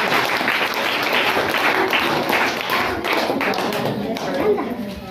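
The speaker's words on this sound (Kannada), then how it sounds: "ಸಂಜು ನಾಯಕ್ ಮತ್ತು ತಂಡದವರಿಗೆ ಚಪ್ಪಾಳೆ ಮೂಲಕ ಧನ್ಯವಾದ" An audience at a school National Science Day celebration claps loudly and steadily for Sanju Nayak and team, with dense applause and some thumping taps under scattered voices.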